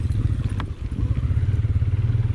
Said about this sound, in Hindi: ये देखें, बाइक स्लिप हुई है।